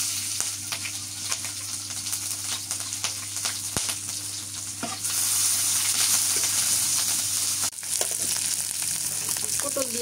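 Chopped onion and green chillies sizzle steadily in a hot pan, a continuous close frying hiss with occasional stirring scrapes that grows louder partway through.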